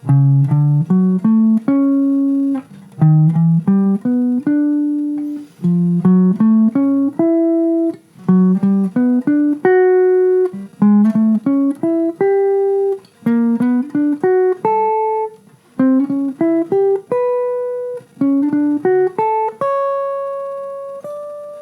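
A single-line instrument plays quick rising groups of four-note chord tones, each starting with a short half-step approach note, in a steady repeating pattern ending on a held high D.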